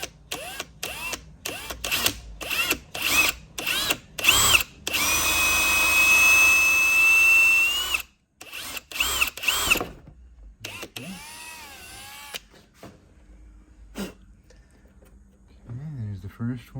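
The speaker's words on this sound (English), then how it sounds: "And this is a 1/4-inch drill bit." A power drill with a 1/4-inch bit works on a 2022 Sea-Doo GTI SE 170 during a cup and rod holder install, with quick trigger bursts, one longer steady whine, then more short pulses, and a person talking between them.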